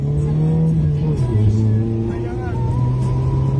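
A newly bought car accelerates hard with a loud, steady engine drone and shifting tones, with people talking over it throughout.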